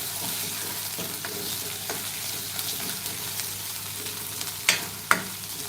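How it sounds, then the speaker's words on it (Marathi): Onion sautés in a pan for dried-fish curry with a steady moderate sizzle, and near the end a spatula scrapes and clinks twice against the pan. "कांदा आता चांगला गुलाबी रंगावरती परतत आलेलं आहे"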